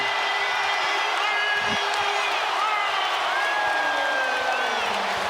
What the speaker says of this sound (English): And the crowd delighted.